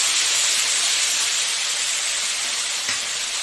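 Paste of ginger, chilli, tomato and cumin frying in a pan with ground spices hisses and sizzles steadily and loudly up close, one faint clink near the end, no voices.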